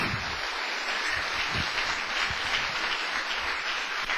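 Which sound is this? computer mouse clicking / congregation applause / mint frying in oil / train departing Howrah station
congregation applause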